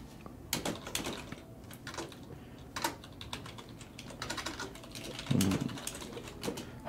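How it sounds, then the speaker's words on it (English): Rapid typing on a loud, basic Dell computer keyboard, with crisp clattering keystrokes in uneven bursts and a few sharper thumps, close up over a low background rumble. "We do need a quieter keyboard for this place, man."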